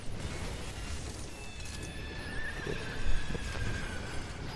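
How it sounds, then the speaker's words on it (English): A horse whinnies in the action game Shadow Warrior 2013 over a dense, steady wash of game ambience and rumble, with a brief louder swell toward the end and no talk. "Hey, it's a horse."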